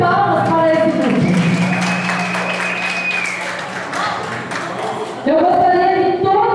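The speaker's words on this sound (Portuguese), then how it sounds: "Uma salva de palmas para esse grupo." Audience applause for a school dance group at a state school event, a steady wash of clapping filling the room with a sustained tone running underneath and swelling louder again near the end.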